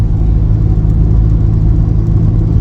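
Loud, continuous low rumble and whir from inside a moving converted Passat, a drivetrain noise from the driveshaft or gearbox, a steady drone with a faint mechanical hum underneath.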